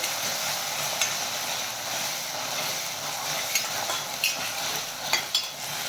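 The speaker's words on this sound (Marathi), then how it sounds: "इथे चिली सॉस, टोमॅटो सॉस आणि सॉसेस यामध्ये छान असे परतून घ्यायचे" Chili sauce and tomato sauce stirred and sautéed in a hot pan for veg manchurian, a dense continuous sizzle with a few sharp spatula knocks, close up and without voices.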